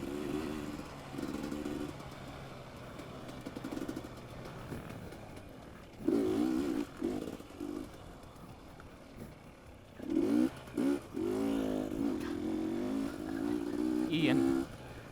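Dirt bike engine during a harescramble race, revving and clattering in surges with a loud burst midway, close under rushing wind noise while a rider talks.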